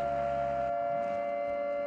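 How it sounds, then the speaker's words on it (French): A loud, sustained siren wail in the video game Warzone, holding one steady pitch, with a low rumbling layer that drops out partway through. "Attention, on entend la sirène. La sirène de la chasse."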